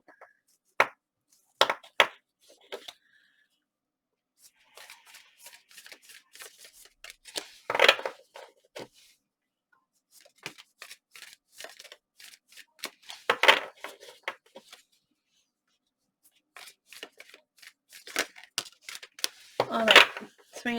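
Stiff tarot cards being shuffled by hand in bursts of riffling and flicking, with clustered crackling snaps separated by quiet pauses and a louder flurry near the end.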